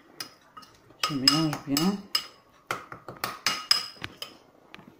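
A utensil stirs and scrapes in a bowl mixing harissa into sardines, giving a run of clinks and knocks in uneven bursts, close and moderately loud, with a brief word spoken over it.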